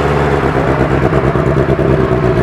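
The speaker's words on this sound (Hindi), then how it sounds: "सो पहले स्ट्रोक एग्जॉस्ट साउंड चेक करते हैं इसका कैसा आ रहा है" Benelli TNT 600i motorcycle on its stock exhaust during a cold start, a loud, close, steady rumbling idle with a throbbing low pulse and no speech.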